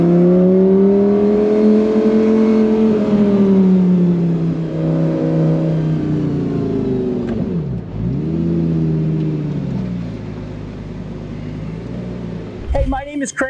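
A Lamborghini pulls in with a loud, close engine drone that rises and falls as it slows and eases off, and ends with a short clatter.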